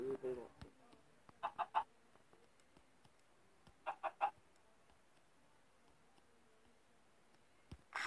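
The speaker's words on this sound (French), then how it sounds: "Et voilà, un petit poulet." A chicken in the Minecraft Pocket Edition video game clucks in a few short, soft bursts against a quiet background, with faint clicks scattered between them.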